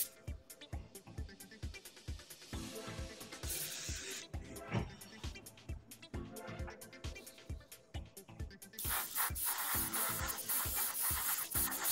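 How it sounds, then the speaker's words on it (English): An airbrush sprays primer onto a plastic model aircraft at around 12 to 13 PSI, giving a steady close hiss under a rhythmic pulsing background, growing louder and fuller near the end. "Spraying around 12, 13 PSI."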